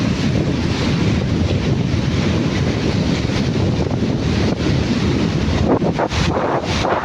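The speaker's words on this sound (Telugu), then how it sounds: "వాటర్ పడుతున్నాయి." Water pours heavily at the Ranganayaka Sagar reservoir pump house, a loud, unbroken roaring rush mixed with wind buffeting the microphone.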